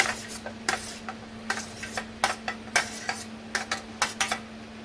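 Chunks of potato, brinjal and pumpkin are stirred in a pan with mutton and lentils for Parsi dhansak, giving a series of close, scraping and rustling strokes over a faint steady hum, with no one talking.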